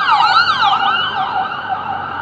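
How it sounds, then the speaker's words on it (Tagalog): An ambulance siren wails along a street, its rising and falling tone loud and continuous throughout, with no talking. "Sunod-sunod yung mga ambulansya."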